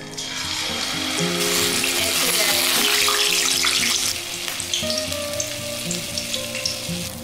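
Malpua batter frying in hot oil in a kadhai over a high flame, a loud, steady crackling sizzle throughout that eases slightly toward the end, with no talking.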